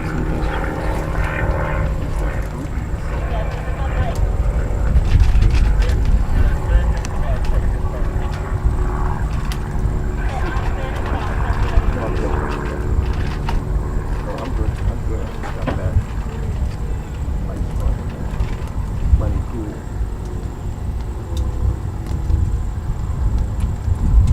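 An aerobatic airplane flies at an International Aerobatic Club Primary/Sportsman contest as a steady, droning propeller engine hum that stays at an even level throughout, with commentators talking over it.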